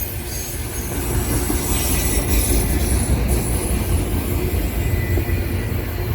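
A train passes on a tight curve just north of Dayton, Ohio, near Taylorsville Metro Park, a steady loud rumble of wheels on rail with high squealing from the wheels throughout, no voices.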